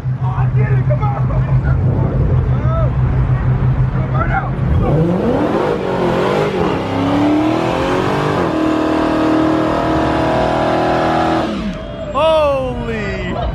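Dodge Challenger Hellcat roaring through a burnout leaving a Cars and Coffee meet in Houston, the engine droning loud and steady, then revving hard and accelerating away with rising, fading engine pitch while excited bystanders shout over it.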